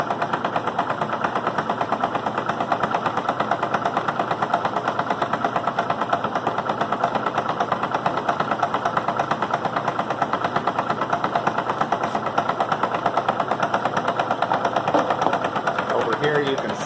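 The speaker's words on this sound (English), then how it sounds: "we're going to go ahead and run the lettuce through the cleaner" A Clipper Office Tester seed cleaner runs lettuce seed, giving a steady, loud mechanical rattle and fast rhythmic clatter from the shaking screens and blower, unbroken for the whole stretch with no speech.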